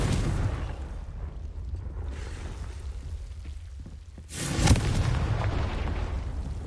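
A Confringo fire spell detonates in Hogwarts Legacy, a dense rumbling blast that swells to a loud burst near the middle and then trails into a continuous roar, with no talking.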